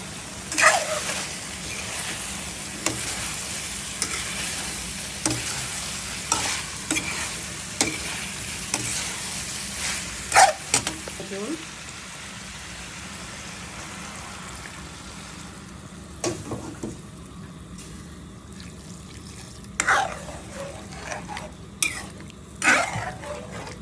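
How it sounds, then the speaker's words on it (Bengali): Eggplant and potato fry down in a pan before cauliflower and stalks go in, with a steady sizzle under repeated spatula scrapes and stirs that pause briefly and then resume near the end. "কষানো হয়ে গেছে, দিয়ে দিলাম কপি আর ডাটাটা"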